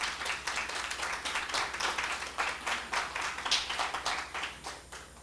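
Congregation clapping in a church service, a steady patter of many hands with rhythmic pulses running throughout at moderate level, no voices standing out.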